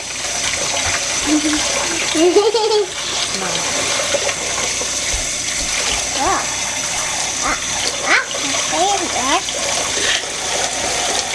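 Hands swish and stir aquarium sand in a container of cloudy water, giving steady sloshing and splashing throughout with some faint voice-like sounds mixed in.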